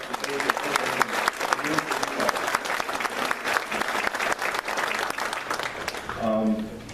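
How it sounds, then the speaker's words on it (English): Audience applause at a Berks County Patriots meeting, a steady dense wash of many hands clapping for nearly the whole stretch, with a voice starting to speak near the end as the clapping fades. "give a nice round of applause for these guys"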